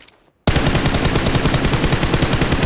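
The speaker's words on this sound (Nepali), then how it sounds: "कस्तो चप्केको हो गोली कस्तो बवाल यार गोली चप्केको हेर्नु न" Sustained automatic gunfire from a spray in the mobile battle royale game PUBG Mobile, a loud rapid rhythmic burst that starts abruptly after a brief quiet moment and continues unbroken to the end.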